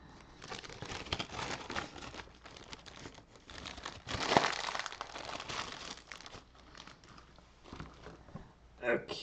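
A plastic bag crinkles and rustles close by during a model-painting session. The bursts are soft and irregular, with quiet talk in between.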